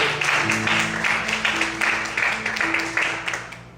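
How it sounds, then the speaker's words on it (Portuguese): A church congregation applauding steadily while sustained musical tones hum beneath the clapping. "Vamos aplaudir ao Senhor essa manhã"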